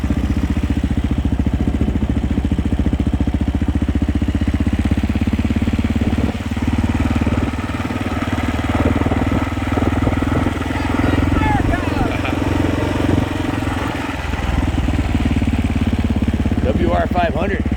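Vintage motocross motorcycles run in the pits at the Unadilla motocross track in New York, with a loud, steady engine drone throughout and voices talking over it.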